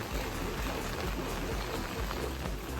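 Steady rain falls across an outdoor construction site where work carries on, a dense, even patter of drops on surfaces with no talk, filling the whole stretch at a constant level.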